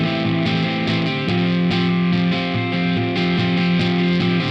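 An electric guitar plays with a driving, distorted tone through effects, sustained chords ringing loud and thick in a steady upbeat rhythm with sharp attacks on each change.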